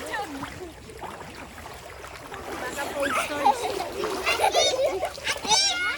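Children bathe and splash in a river swimming spot in Agusan, with repeated watery splashes and sloshing mixed with lively kids' voices and shouting, close by and growing busier toward the end.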